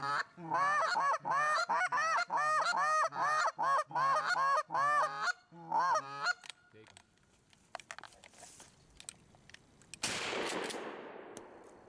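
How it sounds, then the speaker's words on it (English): A flock of geese honks loudly and repeatedly in rapid, overlapping calls during a goose hunt, then breaks off into scattered noise before a sharp shotgun blast near the end. "Taylor, there's a couple geese right there."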